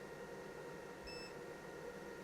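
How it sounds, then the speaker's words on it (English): A DJI portable power station, its AC inverter pushed to a 2500-watt overload, gives one short, faint electronic warning beep over a steady background hum. "and it's beginning to beep"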